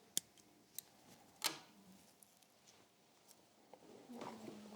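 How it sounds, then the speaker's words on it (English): Scissors snip excess thread while a stonefly nymph for steelhead is tied, a few sharp, close clicks and one louder cut, then faint handling rustle. "Snip off the excess."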